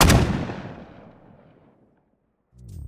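A single loud layered gunshot sound effect with a long rumbling tail that fades out over about two seconds, followed by silence and then a brief burst of another sound.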